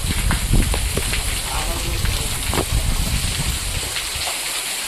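Steady rain hisses close by in a forest, with scattered patters and drips, a continuous wash of noise throughout.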